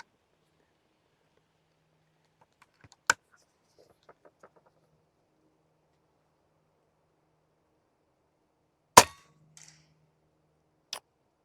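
Shots from an Air Venturi Avenge-X .25 bullpup PCP air rifle: a few sharp, isolated cracks with metallic clangs, separated by long stretches of near silence.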